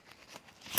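Playing cards from a Cyber Dragon extra deck are handled with a short, soft shuffle and a sharp riffle snap at the very end, close by and fairly quiet.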